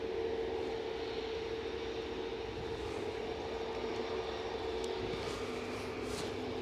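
A Turkish Airlines airliner on final approach to Edinburgh Airport on a windy day gives a steady, distant engine drone with a faint tonal hum. Constant wind noise runs throughout.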